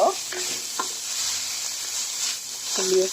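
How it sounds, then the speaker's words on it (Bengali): Meat that was fried earlier is stirred and fried again in a pan, giving a loud, continuous close sizzle with occasional scraping strokes of the spoon and no talk. "ভেজে রাখা মাংসটা দিয়ে দিচ্ছি দিয়ে আমাদের ভালো করে ভেজে নিতে হবে"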